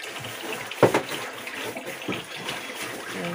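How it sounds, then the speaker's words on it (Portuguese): Water runs into a household water tank with a steady, soft rushing trickle and a few brief splashy bumps, fairly quiet throughout. "Encher a caixa pra deixar um pouco de água, né?"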